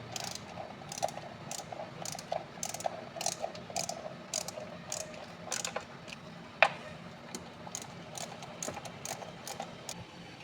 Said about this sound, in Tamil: இப்போ போல்ட்டெல்லாம் போட்டு வாங்க டைட் பண்ணிக்கலாம்.